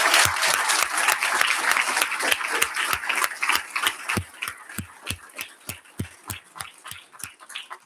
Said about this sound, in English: Let's give all of our Teachers of the Year a big round of applause.